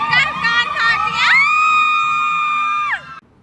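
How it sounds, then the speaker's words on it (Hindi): Girls shout, whoop and cheer loudly together at a welcome party, with rhythmic chanting bursts that rise into one long, sustained high-pitched scream before it cuts off. "चीख चीख के सबका कान काट दिया।"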